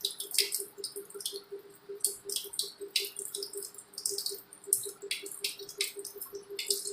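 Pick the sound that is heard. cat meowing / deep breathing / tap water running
tap water running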